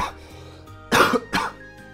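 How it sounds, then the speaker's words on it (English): Two sharp, close coughs from a man right at the microphone, one just before the midpoint and a second shortly after, with quiet game background in between. "Sorry for coughing basically into the microphone."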